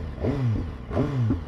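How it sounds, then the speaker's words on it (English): A 2015 BMW S1000RR sport motorcycle with stock exhaust revs twice in quick succession, each blip rising and falling sharply, loud and close. "This bike has the best stock exhaust I've ever heard on any motorbike"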